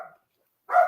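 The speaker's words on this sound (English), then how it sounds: "My dog wants to be on the podcast too." A dog barks indoors during a podcast recording, two short sharp barks separated by brief silence, fairly close and alone.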